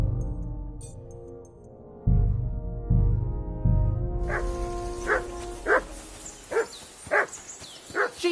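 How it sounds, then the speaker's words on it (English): The dog Mutt in Kingdom Come Deliverance 2 barks in a steady run of about seven sharp barks, each one repeating roughly every half second. The barks come in after a quieter stretch with low background sound. "Jesus, Henry, that bark..."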